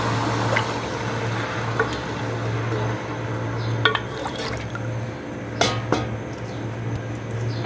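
Water is poured into a pan of frying rice while cooking a KFC-style rice bowl at home, giving a steady sizzling, bubbling wash with a few brief splashy clicks, close and moderately loud.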